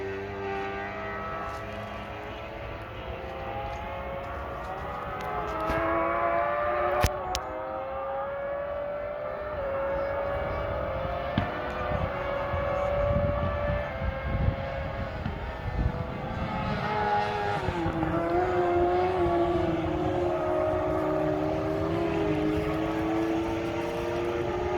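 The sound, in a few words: F1 and F2 racing sidecar engines at Donington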